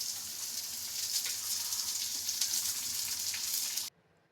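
Chopped onions sizzling in hot oil with peanuts in a pan for upma, a steady close hiss of frying that runs evenly, then cuts off abruptly near the end.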